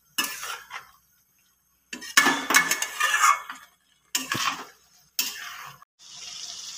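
Jackfruit, fried potatoes and prawns are stir-fried in a pan, heard as several separate bursts of clattering metal scraping and clinking against the pan, broken by silent gaps, ending in a softer sustained hiss.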